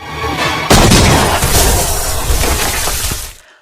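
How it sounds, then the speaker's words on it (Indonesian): A landmine detonates in a film battle scene, hitting a squad of terrorist troops: a sudden, loud blast erupts after a quiet lead-in, then a dense roar of shattering debris that slowly fades out, with no voices. "Dari 8 ranjau yang ditanam, hanya 1 yang berhasil meledak mengenai pasukan teroris"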